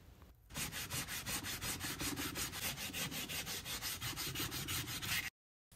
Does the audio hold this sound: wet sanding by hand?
yes